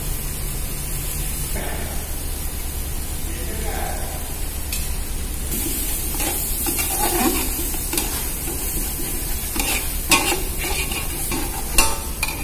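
Red mixed masala hitting a frying base of onion, ginger, garlic, tomato, fresh coconut, green chilli and coriander for a prawn curry, steady sizzle with stirring and scraping throughout, close and continuous.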